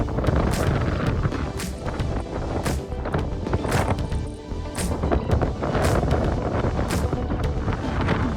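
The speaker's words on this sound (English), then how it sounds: "Yep, that's windy." Strong wind on a mountain climb near Cusco, loud and close, buffeting the microphone in a heavy continuous roar with repeated sharper gusts.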